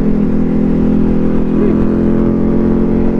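Ducati Diavel 1260 motorcycle on the move, a steady, loud engine drone mixed with rushing wind noise that holds without a break throughout, with no talking.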